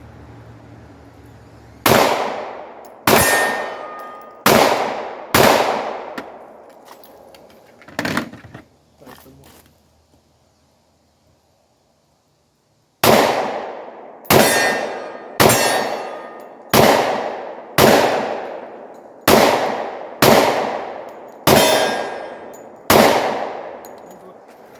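A 10mm Glock 20 pistol fires sharp, loud shots with ringing decay, first a quick string of five, then a pause with silence, then a steady run of about nine evenly spaced rounds.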